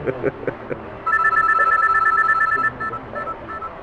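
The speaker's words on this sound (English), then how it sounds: "that's your phone going off." A telephone rings loudly and repeatedly in the middle of an interview with a martial arts grand master. Brief speech comes first, then a fast, warbling electronic ring pulses for over a second before shorter bursts follow.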